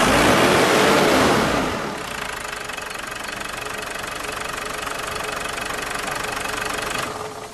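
A car engine revs up loudly for about two seconds, then settles into a steady, slightly knocking idle that continues for the rest of the clip, with no one speaking.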